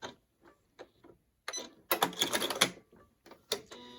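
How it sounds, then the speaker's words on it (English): A sewing machine closes off a wire casing on a face mask with a back stitch, giving short mechanical bursts and clicks, with one louder run of stitching in the middle. "I'm going to close that casing off and back stitch."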